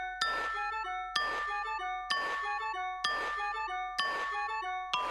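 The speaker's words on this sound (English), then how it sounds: "It's rather musical, isn't it? Sounds like the Carol of the Bells." A musical phone ringtone resembling Carol of the Bells rings in a cartoon, a bright glassy chiming phrase repeating five times at an even pace, clear and moderately quiet with no voices over it.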